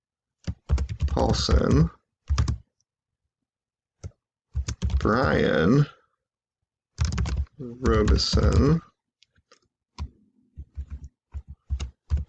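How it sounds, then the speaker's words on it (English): Keyboard typing in quick bursts of clicks comes between and under a person's speech, with a rapid close patter of keystrokes near the end. "excuse my typing there"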